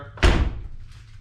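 Door of a 1988 Pontiac Firebird shutting, a single solid, close slam followed by a short fading rattle.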